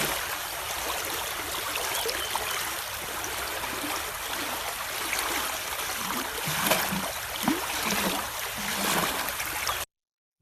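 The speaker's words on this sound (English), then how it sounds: "That's the River Dão, the Rio Dão, where all of this action is taking place." River Dão in Portugal flows in a steady, soft rushing babble with small trickling splashes, heard alone at moderate distance before cutting off abruptly.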